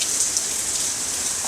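Hard rain drums steadily on a ribbed metal roof over a covered deck, a loud, dense, continuous hiss with no pauses and no voices.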